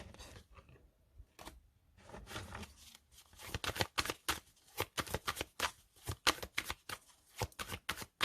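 Tarot cards being handled and shuffled, starting with soft sliding and rustling, then a rapid run of crisp riffling flicks that come close and sharp in quick succession, with no voices.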